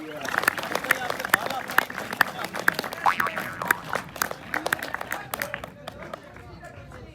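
An audience at a college drama performance in Mirpur claps in bursts, scattered hand claps under a host speaking over a microphone in Urdu.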